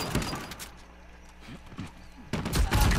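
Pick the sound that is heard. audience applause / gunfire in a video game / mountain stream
gunfire in a video game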